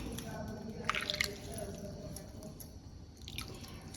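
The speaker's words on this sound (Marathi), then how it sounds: "थोडं थोडं पाणी घालून मळून घ्यायचं" Soft wet squishing and a few drips as cold water is worked by hand into stiff dough for savoury shankarpali, low and close, with steady background noise.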